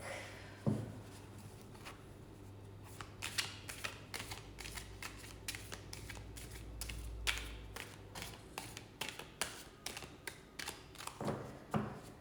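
A tarot card deck being shuffled by hand, with quick papery riffles and soft taps in irregular bursts, close and fairly quiet.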